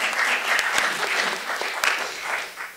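Audience applause fills a conference hall at a United Nations Commission on the Status of Women session, a steady dense clapping held at even loudness throughout, with a few sharper individual claps standing out.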